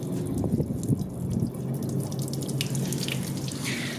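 Water drains from the radiator of a Honda CRX with a B16A engine during a coolant flush, a steady close trickle and splash with small drips and gurgles.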